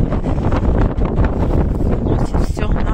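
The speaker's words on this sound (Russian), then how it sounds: "Смотрите, какой у нас ветер, ветер, дымогучий. Холодно как. Шторм такой вообще." Strong, cold storm wind gusts outdoors and buffets the microphone. A loud, continuous roar rises and falls in rough gusts throughout.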